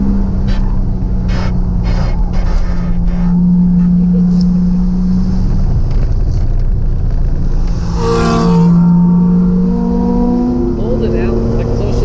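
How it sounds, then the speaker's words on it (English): A Porsche 986 Boxster drives laps on a race track, its engine a steady, loud, close drone with the pitch climbing and falling through gear changes, while people talk inside the car over it. "Alright, we're going out now with Spike, and he's going to have a look and see how bad my driving is"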